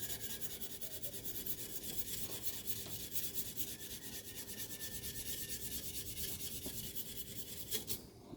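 Steady rasping scrape of sandpaper worked by hand across a chef knife blade, continuous and close, rubbing on without pause for several seconds and ending with a brief scuff.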